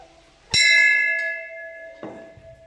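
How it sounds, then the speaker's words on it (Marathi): A metal bell at a village Hanuman temple is struck once, loud and close. It rings with a bright sustained tone that slowly decays, and a second softer strike follows about one and a half seconds later. "घंटी वाजू."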